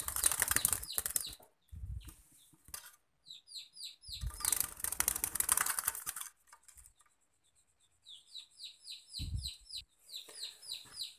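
A zebra dove (perkutut) flaps its wings in flight in close, loud bursts of rapid beating, separated by quiet gaps, with a few faint chirps and clucks between them.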